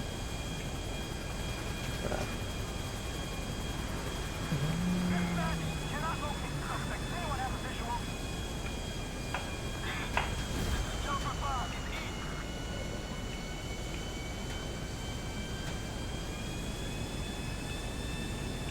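Continuous droning airplane engine hum from the game GTA V, fairly faint, with steady tonal whine and a few scattered clicks and sounds on top.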